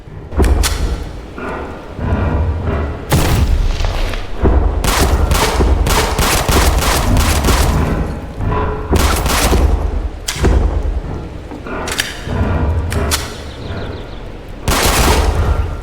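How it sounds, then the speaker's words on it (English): Rapid bursts of gunfire in the Roblox survival game 7 Days to Survive, fired at a huge woolly mammoth near a cabin; loud repeated volleys with thuds and booms, no talking. "The huge, woolly mammoth followed me all the way to the cabin, and I had no choice but to keep firing at it."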